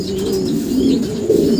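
Racing pigeons cooing close by, a continuous soft, throaty warble rising and falling in pitch, loud and without any talk.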